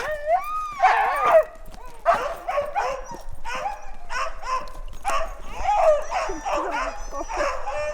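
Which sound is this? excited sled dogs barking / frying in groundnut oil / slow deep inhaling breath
excited sled dogs barking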